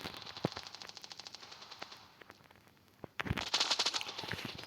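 Gunfire in a shooter video game: fast bursts of automatic fire, moderately loud, with single shots between them and a denser, louder burst near the end.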